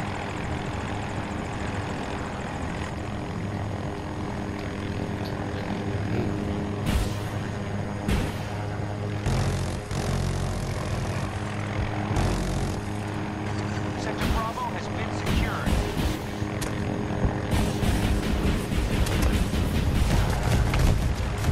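A Little Bird helicopter in Battlefield 2042 drones steadily through the whole stretch, its engine and rotor hum running loud and continuous beneath bursts of gunfire and a player talking over the top.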